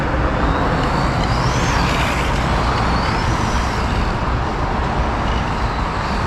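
A Traxxas RS200 RC car runs laps on a course, giving a continuous close, loud broadband whine and rush of motor and tire noise that swells slightly as it passes, with no pauses.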